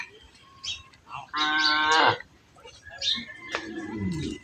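Cattle moo loudly as cows are let out one by one from a village shed in the morning, one long drawn-out call in the middle between quieter calls and faint rural background noise.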